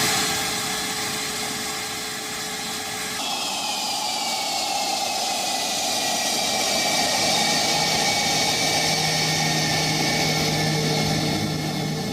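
A Sukhoi Su-35 fighter jet engine: a loud, continuous roar with whining tones gliding slowly downward, holding steady for over twelve seconds.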